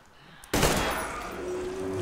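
Gunfire in the Metro Exodus video game starts abruptly as a loud, rapid burst of shots and carries on into a sustained roar of fire and ringing noise, with no talking over it.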